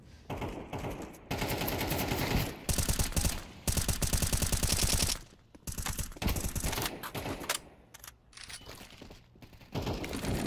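Intense firefight in the Counter-Strike 2 shooter, loud sustained automatic rifle bursts overlapping in rapid volleys with short gaps, nearly continuous across the scene, with little talk over it.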